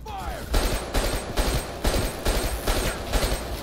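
Rapid bursts of automatic gunfire from Call of Duty Black Ops 3, loud and close, coming in roughly six evenly spaced volleys that fill the whole stretch.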